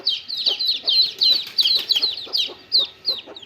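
A mother hen with three chicks clucks over and over in a quick, steady rhythm, close by and fairly loud, with no talking.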